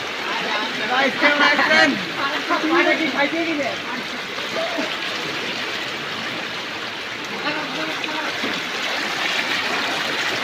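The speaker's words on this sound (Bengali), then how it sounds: "যে রাস্তার উপরে হাঁটু জল বইছে, পাশে হাই ড্রেন থেকে জল ওভার হয়ে জল রাস্তার উপরে উঠেছে" Knee-deep floodwater flowing over a town street in Purulia from an overflowing roadside drain, a steady broad rushing wash under someone talking throughout.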